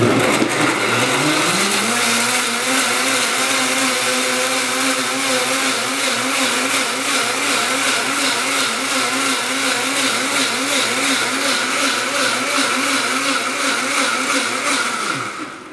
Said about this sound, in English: when I turn on this blender